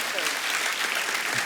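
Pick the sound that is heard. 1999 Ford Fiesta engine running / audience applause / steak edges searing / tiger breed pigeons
audience applause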